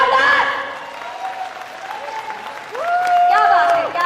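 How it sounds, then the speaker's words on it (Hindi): An audience claps loudly for the speaker's parents, a dense burst of applause that dips briefly in the middle, then swells again, with voices talking over it. "मैं चाहूंगी मेरे पेरेंट्स के लिए, मेरे मम्मी पापा के लिए एक जबरदस्त ताली, जोरदार"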